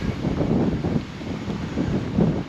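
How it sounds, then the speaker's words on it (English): Steady wind buffeting the microphone in the Palma Nova and Magaluf area of Mallorca, a low rumbling roar that swells and eases throughout with no voices. "It's getting very windy going this way."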